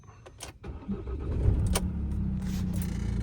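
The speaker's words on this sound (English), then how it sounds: "let's turn the engine on" A van engine cranks and catches, with a few clicks and a key jingle first, then settles into a low, steady idle close by.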